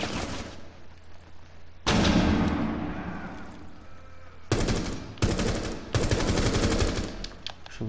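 Gunfire in the video game Rainbow Six Siege: loud machine-gun bursts break out in several separate volleys, each sharply cut off, with quieter gaps between them.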